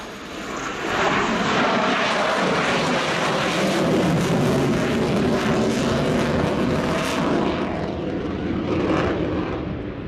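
A Ukrainian Air Force Sukhoi Su-27P jet fighter flies a display at the RIAT air show, giving a loud, sustained roar that rises within the first second and holds steady throughout.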